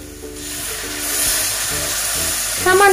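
Shrimp with chili powder and spices sauté in a pan for about three seconds: a close, steady hiss and sizzle that swells slightly, with a brief tonal clink near the end.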